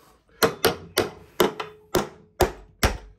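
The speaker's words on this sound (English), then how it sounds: "Little tap." Seven light hammer taps ring out up close at an uneven, unhurried pace while a Ring the Bell fairground high striker is assembled, each a sharp knock with a short decay.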